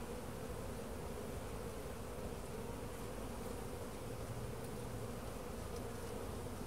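Honey bees buzz in a dense, unbroken drone at close range over a brood frame during a hive inspection.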